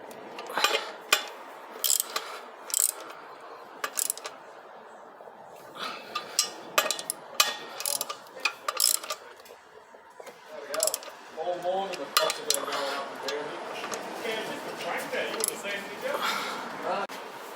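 Ratchet wrench tightening pressure plate bolts on an Isuzu Rodeo, Colorado or D-Max clutch, giving bursts of fast metallic clicking and clinks of tools in between, with someone talking over much of it.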